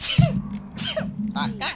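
A quick sneeze bursts out near the start, followed by brief sounds of people talking in the background.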